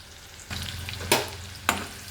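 Onions frying to golden brown in a pan, a soft sizzle under two sharp stirring scrapes that punctuate the short stretch.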